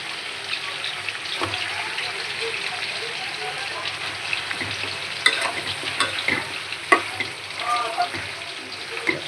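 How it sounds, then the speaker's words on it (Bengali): Jungle-grown Malabar spinach (pui shak) frying in a pan of oil, a steady loud sizzle with scraping stir strokes and occasional clinks throughout. "এবার আমি পুঁই শাক দিয়ে দেবো"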